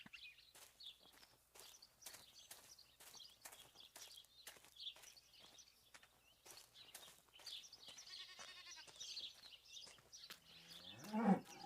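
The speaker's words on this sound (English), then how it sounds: "But it's a moo cow." A cow in the video game Martha Is Dead gives several low moos at a distance, mixed with regular footsteps and faint ambient sound, quiet overall, with a louder rustle at the very end.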